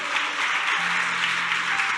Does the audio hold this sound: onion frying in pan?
no